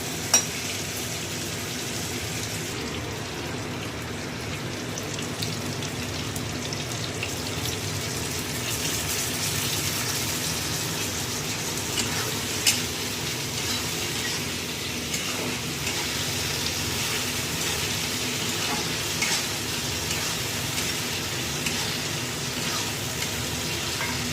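Spices frying with potato and tomato in a pan, giving a steady, moderately loud sizzling hiss over about twenty seconds, with occasional faint stirring scrapes and no speech.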